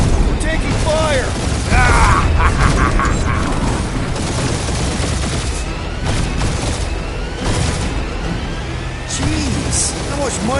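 Gunfire in a space combat battle from Marvel's Guardians of the Galaxy video game, a dense mechanical rattle with booming bursts running under busy game noise and voices.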